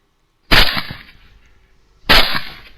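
Two rifle shots fired at hogs on a hunt, each a sharp loud crack with a short rolling echo, about a second and a half apart, no voices.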